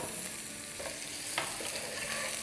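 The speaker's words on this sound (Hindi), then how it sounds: "फ्लेम आप हाई कर देंगे और इसको सौटे करेंगे।" Onions and bell pepper sautéing over a high flame, a soft continuous sizzle with a few stirring scrapes, fairly quiet and without talk.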